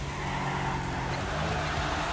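Car drifting in the Torque Drift racing video game, an S15 with tires skidding in one continuous, loud squeal over a steady engine drone, no talk over it.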